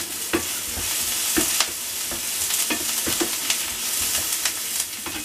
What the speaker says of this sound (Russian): Так, я обжарила лук, добавила шампиньоны.